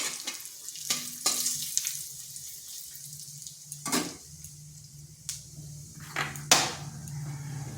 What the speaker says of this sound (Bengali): ফোড়নে দিচ্ছি একটা তেজপাতা, গোটা জিরা আর একটা শুকনো লঙ্কা